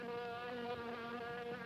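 A fly buzzes steadily and loudly in a 1959 horror film trailer, a sustained droning hum with wavering pitch that persists throughout without speech.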